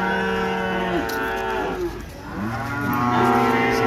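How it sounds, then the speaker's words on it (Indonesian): Several cattle moo loudly and overlapping at a livestock market in Gamping, Yogyakarta, long low drawn-out calls one after another, with a busy crowd murmur in the background. "Ramai sekali teman-teman, ini sapi-sapi."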